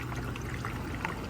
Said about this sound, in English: pour it into the overflow